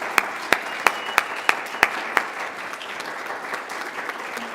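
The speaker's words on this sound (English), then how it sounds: "So another round of applause" Applause from an anniversary celebration audience, with sharp regular claps standing out in the first half and then settling into a steady, softer patter of clapping.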